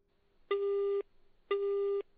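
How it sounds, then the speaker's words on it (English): A telephone busy tone sounds after a call hangs up: two identical electronic beeps, each about half a second long and evenly spaced, clear and alone against near silence. "When she said that, the phone hung up."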